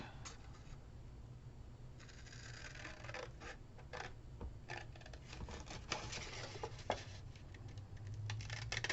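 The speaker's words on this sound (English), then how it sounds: "I'm going to cut this out" Scissors cutting out paper decorations, quiet irregular snips and paper rustles close by, growing busier toward the end.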